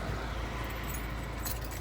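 Keys jangle and clink close by for a couple of seconds over steady broadband background noise, with a brighter cluster of metallic rattles near the end.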